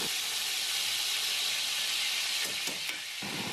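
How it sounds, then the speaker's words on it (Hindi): Ginger and garlic paste frying in hot oil gives a steady, dense sizzle and hiss that continues throughout at moderate volume, with no voices. "अब हम इसे लाइट ब्राउन होने तक फ्राई करेंगे।"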